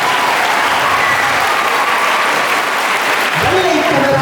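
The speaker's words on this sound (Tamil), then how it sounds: "இது காமராசருக்கும் சொல்லலாம், நம் மதிப்பிற்குரிய பங்கு தந்தை அவர்களுக்கும் இந்த கைத்தட்டங்கள்." At a school birthday celebration honouring Kamarajar, the audience claps in a steady, loud, continuous wash from start to finish.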